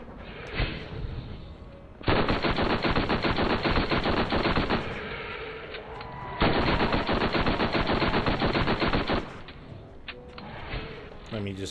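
Automatic gunfire in the video game Borderlands comes in two long, loud, dense bursts of rapid shots, separated by quieter stretches of scattered game sounds and effects.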